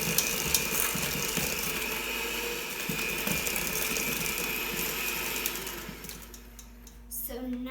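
An electric mixer whirs steadily as it beats egg and vanilla together for raspberry thumbprint cookie dough, a close mechanical buzz with rattling, ratchet-like ticks that fades and then stops near the end.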